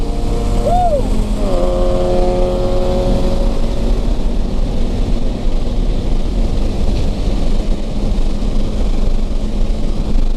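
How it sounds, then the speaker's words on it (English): Cars circling a race track around a spun-out FRS, heard as a constant loud engine drone with a tone that rises and falls early on, steady roar continuing, no talk. "There's a lot of cars around us."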